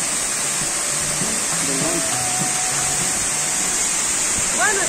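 Steady broadband roar of the Illizhapa waterfall near Jimbilla, Loja, Ecuador, a constant rushing wash heard close by, with people talking faintly beneath it.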